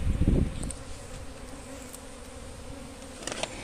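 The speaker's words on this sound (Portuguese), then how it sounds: "É um enxame gigantesco" A huge swarm of honey bees (Apis mellifera) hums in a continuous, close, droning buzz during a hive removal, opening with a brief thump and a few faint knocks near the end.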